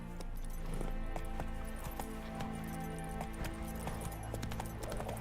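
Hoofbeats from Roach, a horse in The Witcher video game, clip-clopping at a steady gallop, close and clear over a droning game music bed.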